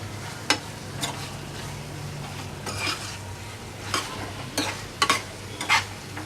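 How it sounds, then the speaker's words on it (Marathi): Konkani chicken masala being stirred and sautéed in a pan, a steady sizzle with repeated scraping strokes of a utensil against the pan, close and fairly loud, no talking. "परतून घ्यायचं आहे आपल्याला हे चांगलं 5 मिनिटं."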